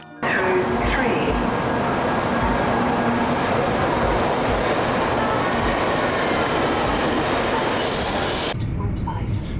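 A Japanese bullet train rumbles steadily along at speed, a continuous loud roar with faint rail noise, cutting off abruptly near the end.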